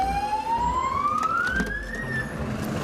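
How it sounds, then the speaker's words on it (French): A police vehicle siren in Rio de Janeiro wails in a single rising sweep, loud and close over road and engine noise, with no talk. "tu peux mettre la sirène."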